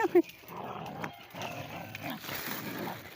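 A dog gives a brief bark at the start, then faint growly animal noises and low background sounds continue quietly.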